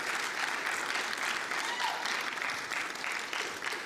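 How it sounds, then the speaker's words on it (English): A conference crowd at a Web3athon session during Consensus 2022 gives a steady round of applause, a dense wash of clapping from many hands that carries on without pause. "Y'all give a round of applause"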